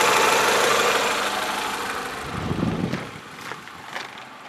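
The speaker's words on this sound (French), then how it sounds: "On refait tourner le moteur pour vérifier les fuites." A Honda Accord engine idles after a thermostat and thermo switch replacement, a low steady hum and rumble close by, fading slightly with a faint mid-range throb partway through.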